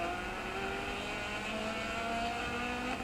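Rally car engine in the Dirt 4 racing game, droning steadily with sustained revving tones and shifting pitch lines suggesting gear changes, continuous and loud without speech.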